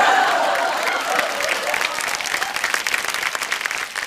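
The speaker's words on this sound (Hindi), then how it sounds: "भारती के लिए जोरदार तालियां हो जाए." An audience at a television awards show claps loudly, dense applause that starts strong and continues steadily before gradually thinning toward the end.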